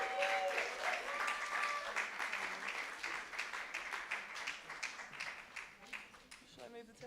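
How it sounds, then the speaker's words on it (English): Audience applause and cheering for the band Heavy Hope in a small live music venue, The Bedford: steady clapping that fades over several seconds, with some voices mixed in. "Big round of applause for Heavy Hope."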